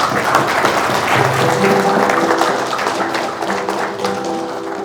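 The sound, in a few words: applause for the coordinator and his deputy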